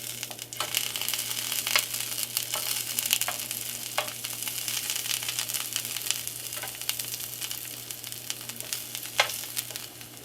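Bell pepper rings fry in a hot pan with a steady, close sizzle, crackling pops scattered throughout over a low hum, with no talking.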